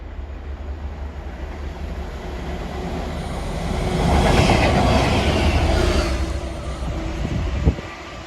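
A DRS freight train running from Daventry Tesco to Crewe Gresty Bridge passes along a UK railway, a steady rumble building to a loud peak mid-pass with wheel clatter, then easing off, with no voices.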